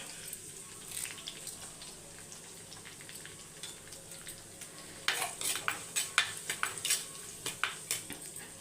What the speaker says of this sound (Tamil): இப்போ பொரிஞ்சோடனே ஒரு கொத்து கருவேப்பிலை